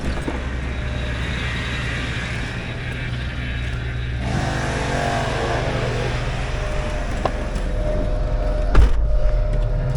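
A 2007 Hummer H2 with an LQ4 6.0L V8 idles with a steady low rumble, then climbs into a held rev from about four seconds in, with a brief sharp knock near the end.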